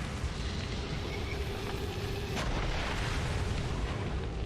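A heavy artillery-like boom from a bombing mech in XCOM 2, rolling and dense, with a sharper burst partway through over sustained low rumble, loud and close with no voices.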